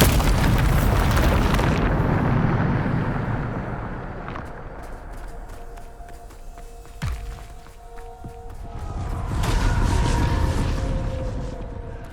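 A Bombarda blasting spell from the Hogwarts Legacy video game erupts in a loud, rumbling explosion, fades over several seconds with debris and clatter, then another heavy blast swells near the end.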